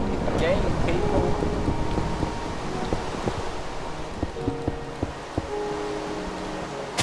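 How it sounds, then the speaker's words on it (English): Minecraft thunderstorm with steady rain hiss and wind, a soft low rumble of thunder beneath, while someone talks over the weather throughout. "But we got a thunderstorm again, people."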